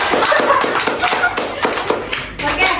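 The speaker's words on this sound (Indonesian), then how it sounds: "tepuk tangan untuk saya" Students in a classroom group counseling session clap their hands together, uneven and fairly close, with distinct individual claps and some talking mixed in.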